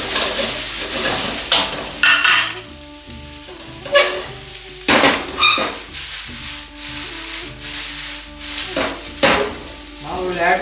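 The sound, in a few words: noodles being stir-fried and mixed in a wok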